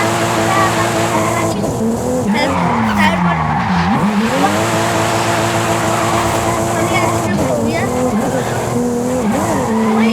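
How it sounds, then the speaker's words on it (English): A Toyota Supra drifts in Forza Horizon 5, its engine droning loud and continuous while the tires squeal in wavering, rising and falling howls, with a voice speaking over the racing. "break दबाने के बाद अभी ऐसे ड्रिफ्ट हो रही है"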